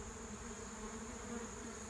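Thick, unbroken buzz of an absconding swarm of roughly 200 to 400 honeybees surrounding the listener, a constant low roar without talking.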